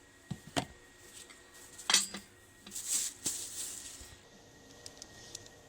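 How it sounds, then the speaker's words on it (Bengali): A rolling board set down on a kitchen counter while making biscuit dough: a few light clinks and knocks, sparse and fairly close, with quiet gaps between them and no talk. "এবার আমি এখানে একটা বেলনি চাকতি নিয়েছি।"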